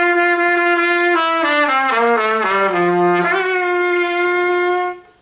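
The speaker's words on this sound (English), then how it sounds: "I'm playing the notes downward, but it's really pinched and nasally" A trumpet sustains a note, then slides down through a series of pinched, nasal low tones at the bottom of its register before jumping back up and holding a brighter tone, alone.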